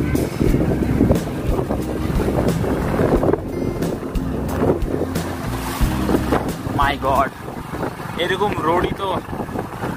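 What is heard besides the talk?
motorbike straining on a rough jungle road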